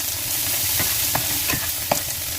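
Onion, tomato and carrots sauté in oil or butter in a pan with a steady close sizzle, broken by a few sharp clicks of a utensil.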